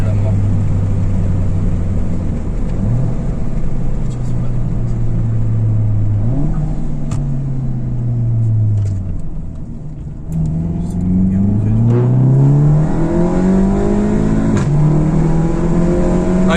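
A VW Golf 7 GTI with a Stage 1 tune, about 320 hp, is heard from inside the cabin as its engine rises in pitch through repeated gear pulls. The drone is loud and close, with people talking over it.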